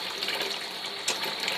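Water is poured off freshly cooked spaghetti for a chicken spaghetti dish, giving a steady, close, fairly loud broadband gush and splash with no talk.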